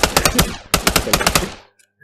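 Rapid automatic gunfire in the VR shooter Pavlov, two loud close bursts of about six shots each separated by a short gap, then a quick fade into near silence.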